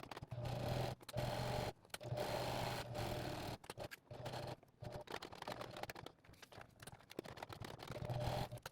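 A domestic sewing machine stitches thick nylon webbing for a tactical chest rig in a series of uneven bursts, rapid mechanical rattling broken by short pauses and stop-starts, close and fairly quiet.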